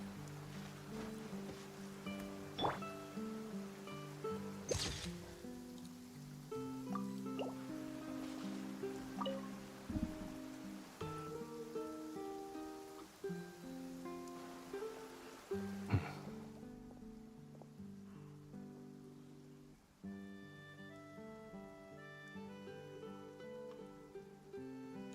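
Steady rain hisses softly in the video game Genshin Impact, a continuous wet patter underneath gentle melodic game music with plucked notes, fading out near the end.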